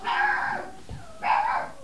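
A puppy gives two sharp, whining yelps close by, each about half a second long and separated by a brief pause.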